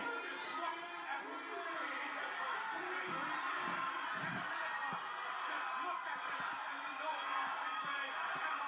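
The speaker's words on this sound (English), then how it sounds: "the crowd's like freaking out" A wrestling arena crowd roars and cheers excitedly in a continuous dense wash of voices, with shouts and laughter rising out of the din.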